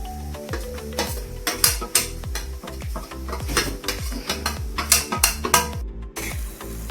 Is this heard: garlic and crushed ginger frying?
yes